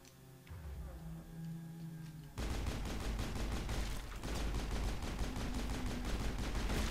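Gunfire in the video game Mass Effect breaks out as rapid, rhythmic bursts of shots after a quieter stretch. The bursts sound loud and dense and keep going to the end, with a hint of voice under them.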